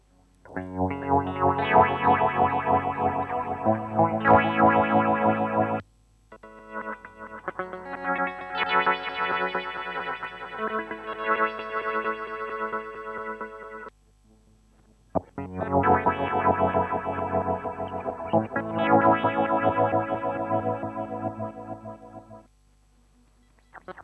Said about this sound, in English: we're only going to hear the delays on this